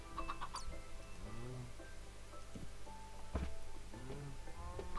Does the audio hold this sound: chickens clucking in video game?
yes